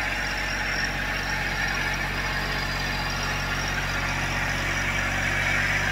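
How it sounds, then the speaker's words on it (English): A steady low engine rumble drones continuously, unchanging in level, with no talking over it. "The tractor's doing a good job."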